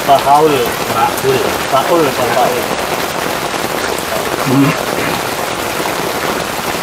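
Steady, heavy rain pours down in a loud, continuous patter, with voices talking over it now and then.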